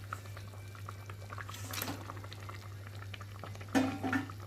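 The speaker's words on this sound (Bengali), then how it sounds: "ভালো করে কষিয়ে জল দিয়ে দিলাম, ঝোলটা ফুটে গেছে" Tilapia fish curry gravy with potatoes bubbling in a pan, a steady soft simmer under a low hum, with a few louder splashy bursts near the end, no talking.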